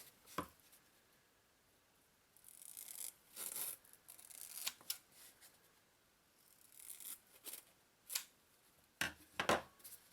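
Several short bursts of scissor snips cutting through soft acoustic foam, close by and fairly quiet, with pauses between the cutting runs. No talking.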